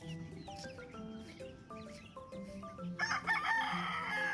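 Gamefowl rooster crowing nearby, with repeated rising calls and clucks and a louder burst near the end, while other fowl sounds fill the background.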